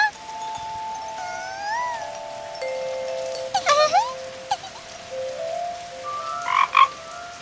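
Frog calls ring out in short bursts over a steady background, with several croaks clustered near the middle and again toward the end.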